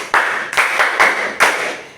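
Students in a language class clap for themselves in four sharp, distinct bursts of group clapping, each a quick flurry that fades before the next, close and fairly loud.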